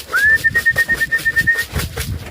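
Homing pigeons at a loft in England, with a long thin steady whistle running through the first part over rhythmic soft fluttering and shuffling noise, close and fairly loud.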